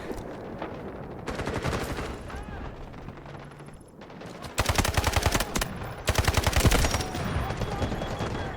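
Rapid bursts of gunfire in Counter-Strike, short automatic volleys growing louder and denser toward the end, with someone talking between shots.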